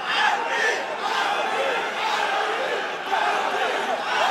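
Roaring arena crowd at an MMA fight, a steady dense wall of cheering and shouting with rising swells, loud and continuous, with a commentator's voice faintly woven in.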